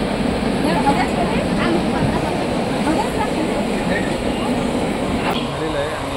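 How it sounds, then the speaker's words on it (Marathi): Commuter train on the Diva to Roha route near Mumbai, a steady low rumble of a moving carriage with faint clatter, heard close and continuous without talk. "तर भावानं जस्ट आता ट्रेन सुटलेली आहे आपल्या."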